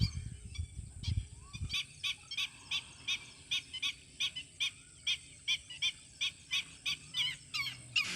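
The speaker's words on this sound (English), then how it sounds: "The mom and dad birds started chopping at me and squawking at me," Parent birds at a bird sanctuary honk and squawk in a rapid, regular series of harsh calls, fairly close, over steady background noise and a few low thumps at the start.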